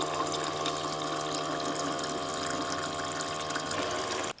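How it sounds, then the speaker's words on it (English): A Dometic Recon 360 cooler faucet pump running on high speed, a steady electric whine with water gushing as it fills, continuous and close, cutting off at the end. "Now on the high speed, it's going to fill about twice as fast. It's going to make a little bit more noise"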